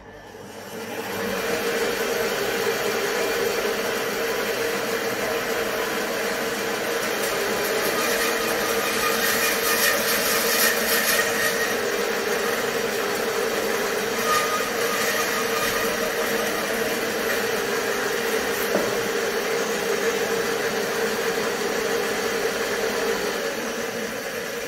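A bandsaw cuts through blackwood hardwood that is mounted on MDF and guided along the fence. The blade makes a steady, loud, broadband whir that holds at an even level for the whole cut.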